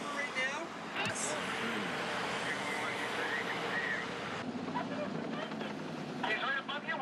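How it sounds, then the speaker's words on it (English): Helicopter hovering overhead during an emergency rescue, a steady low engine and rotor rumble continuing throughout beneath radio voices that talk over it. "Can you see the chopper right now?"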